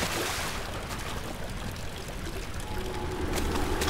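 In the horror game Amnesia: The Dark Descent, water pours in a continuous rushing stream for several seconds, fairly loud and close, thinning toward the end.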